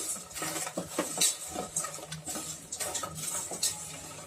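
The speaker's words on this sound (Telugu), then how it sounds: "సో ఇప్పుడు ఇవన్నీ వేసుకున్న తర్వాత మనం దీనికి మంచిగా మిక్స్ చేసుకుందాం." Tomato rasam mixture being stirred in a pot, with a utensil scraping and clinking against the metal in irregular, fairly close taps and rattles, and no talk.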